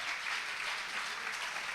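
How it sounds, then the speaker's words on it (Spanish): A church congregation claps together in sustained, dense applause that holds steady from start to finish, with no voices breaking through. "Vamos a regalarle una ofrenda de palmas al Señor de la gloria."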